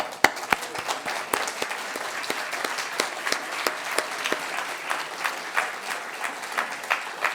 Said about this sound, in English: We can already give a round of applause to our speakers.